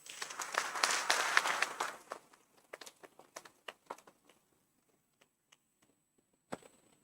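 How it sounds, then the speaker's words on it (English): Audience applause at a campus graduation ceremony, a dense burst of clapping that thins out after about two seconds into scattered individual claps and a last lone clap. "shall we give them a big round of applause?"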